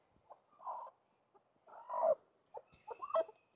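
A hen, angry at having her eggs taken from the nest, clucks in short, agitated bursts, close by and fairly quiet, with brief pauses between the grumbling calls.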